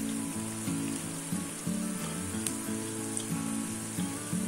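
A curd-based snack fries in plenty of hot oil, giving a steady close-up sizzle that crackles continuously, with a low humming tone running underneath.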